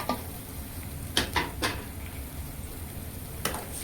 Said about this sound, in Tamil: இப்போ மேகி போட போகிறோம்